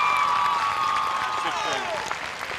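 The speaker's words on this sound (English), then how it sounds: "as you can hear the crowd applauding." Crowd at a high school football game between Lagrange and Sandy Creek applauding as an injured player gets up, moderate clapping and murmur running under a commentator's voice.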